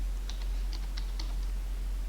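Keys are pressed on a computer keyboard while typing a ping command: several faint, light clicks spaced a fraction of a second apart over a steady low hum.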